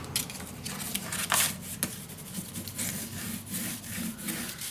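A paper flap on a folio scrapbook page is burnished flat, giving a steady dry rubbing and scraping close to the mic, fairly quiet and continuous with small surges, and no talking.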